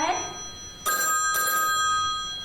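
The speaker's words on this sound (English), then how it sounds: "Telephone's ringing. I hear it." Old telephone bell ringing in a vintage radio comedy broadcast, two bright metallic bursts of ringing following a brief spoken line, with the tone lingering afterward.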